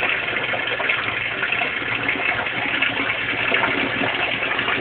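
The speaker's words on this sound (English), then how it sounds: "And then the siphon's starting." Water gushes steadily as an aquaponics siphon kicks in and drains a grow bed, a continuous rushing, churning flow held at an even, fairly loud level throughout.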